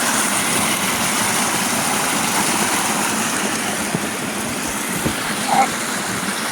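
Rising floodwater rushes steadily past riverside cabins, a continuous broadband roar with no breaks, heard close and fairly loud, with a few faint knocks near the end.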